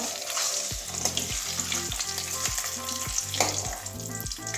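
Eggs frying in a pan until reddish-brown for a capsicum, potato and egg curry, giving a steady, close sizzle with soft stirring, over a recurring low pulsing hum and with no talking.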